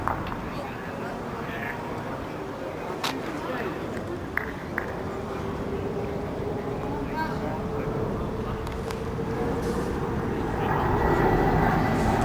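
An airplane drones overhead at an outdoor bowls competition, a steady broad engine rumble building toward the end, with people talking throughout.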